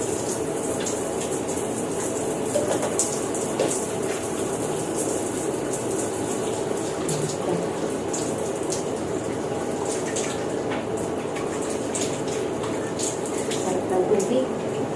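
Water runs steadily while someone bathes, a continuous splashing rush with occasional drips and clatters, fairly loud and close throughout.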